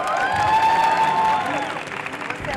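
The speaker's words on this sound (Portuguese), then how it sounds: "Palmas para a Luísa." Audience at a tech and creators event gives a round of applause, a full wash of clapping with a sustained whistle and cheers over it, gradually easing off.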